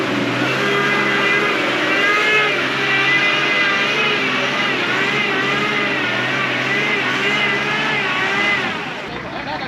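A vehicle drives past on a rough, slippery offroad track in the Masai Mara, its engine droning loudly and steadily at close range and rising and falling in pitch as it labours.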